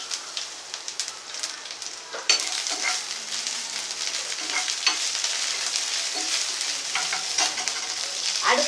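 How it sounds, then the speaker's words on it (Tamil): Mustard seeds, fenugreek and dried chillies in hot oil: a continuous crackling sizzle that jumps louder partway through as more goes into the pan, with dense popping throughout, close and without talking. "எண்ணெய் சூடாயிடுச்சு. இப்போ வந்து கடுகு போடுறேன்."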